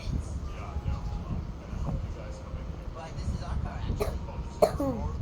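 A single short cough stands out near the end, with low muffled movement and faint background noise around it.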